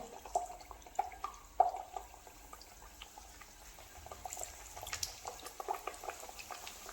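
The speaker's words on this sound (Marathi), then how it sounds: "आता आपण तळून घेऊया जास्त गरम नकोय इथे दोन दोन किंवा तीन तीन सोडून घ्यायचे आहे" Chirote, layered Marathi pastries, deep-fry two or three at a time in moderately hot oil, with soft steady bubbling broken by scattered small pops and crackles, faint and close.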